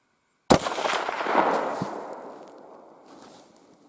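A single sharp rifle shot cracks loudly during grouse hunting target practice, then a long rolling echo fades out over a few seconds.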